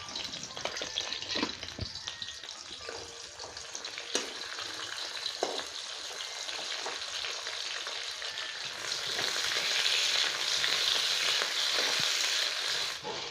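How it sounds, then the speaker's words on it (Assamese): Onions with bay leaves frying in hot oil in a pan, a steady close sizzle that swells louder toward the end, with occasional clinks of a utensil. "এয়া এতিয়া পিঁয়াজখিনি ধুনীয়াকৈ ৰঙচুৱা কৰি ভাজি ল'লোঁ।"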